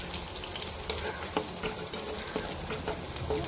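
Onions frying in a pan, a close steady sizzle broken by occasional scraping stirs, browning for a potato and pea sabzi.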